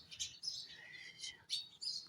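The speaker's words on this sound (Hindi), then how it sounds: "ये वाली चिड़िया हमेशा इस खुश्क घास में आते हैं" Small birds chirping outdoors over dry grass on a cloudy day, several quick high tweets in short bursts, faint and close, with no other sounds.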